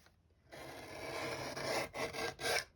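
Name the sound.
paper being trimmed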